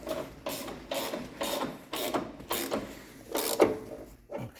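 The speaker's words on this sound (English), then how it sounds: "I'll snug this one up." A ratchet snugs bolts on a second-generation Firebird frame during installation, giving about seven rhythmic bursts of close, crisp clicking with short pauses between strokes.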